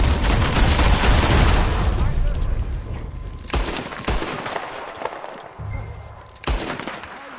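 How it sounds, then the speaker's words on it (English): Sustained bursts of close gunfire fill the opening seconds, followed by sparser, separate shots and a sharp report near the end, with voices partly mixed in. "Shooting at thin air."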